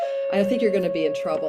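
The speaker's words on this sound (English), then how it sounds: "that was my doorbell" A home doorbell sounds as a steady, sustained tone under a person who is talking throughout.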